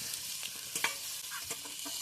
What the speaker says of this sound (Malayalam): വെളിച്ചെണ്ണ ചൂടായിട്ടുണ്ട്. ഇനി നമ്മൾ അരിഞ്ഞ് വെച്ചത് അതിലേക്ക് ഇട്ട് കൊടുക്കുകയാണ്.